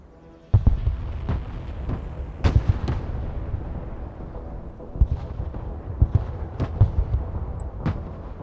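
Mobile artillery in the video game Broken Arrow firing repeatedly, with deep booming shots spaced irregularly over a rumbling battlefield background, loud and heavy with no voices.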